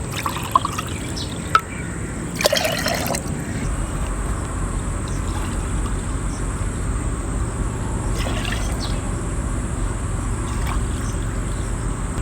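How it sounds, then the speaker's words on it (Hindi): A spoon stirs sugar into thandai liquid, giving a soft steady swishing and sloshing with a few clinks of the spoon against the vessel, close and continuous. "चीनी डाली है, इसको हमने अच्छी तरह से हल कर लेना चीनी को।"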